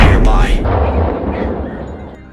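Heavy gunshots fired at a wild boar hit with two booming blasts in quick succession at the start, then decay into a rumbling tail.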